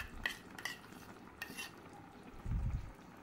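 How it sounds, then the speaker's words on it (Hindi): Slow, gentle stirring of yogurt and fresh cream into a restaurant-style Changezi chicken curry in a pan, with faint scrapes and soft swishing strokes, a low murmur of cooking underneath, quiet and close with no talk. "इसको भी हमने आहिस्ते आहिस्ते से चलाना है"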